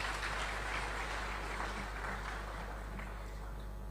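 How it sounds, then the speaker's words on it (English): Applause from a conference audience in Ghana welcoming a speaker, a steady dense patter of clapping at moderate distance that holds evenly without letting up, with no talk over it. "Round of applause for Padmo."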